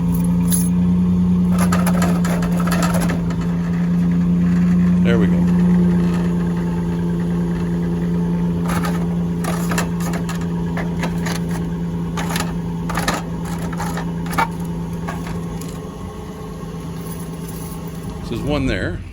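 Loose, broken exhaust heat shield under the rear of a Dodge Grand Caravan rattles over a steady idling engine, with metallic clatter coming and going and a brief voice in the middle.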